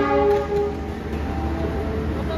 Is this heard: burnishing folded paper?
no